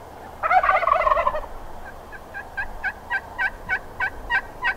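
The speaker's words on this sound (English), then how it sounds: "he's waiting for the turkey to gobble, then answering him with a series of yelps" A wild turkey gobbles once in a rolling, rattling burst on Iowa public land during a spring hunt, then a rhythmic series of about a dozen short yelps answers it, close and evenly spaced.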